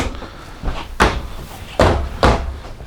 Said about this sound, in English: These are self-closing drawers. All you have to do is get close. They pull themselves in.